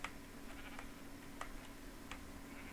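Several short, faint sheep bleats from the Minecraft video game, spaced irregularly over a quiet low hum.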